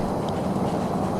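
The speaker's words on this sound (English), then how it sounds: "Listen closely, you can hear the traffic behind me." Road traffic passes behind an outdoor deer-hunting spot in Alabama, heard as a steady, dense low rumble with no breaks and no voices.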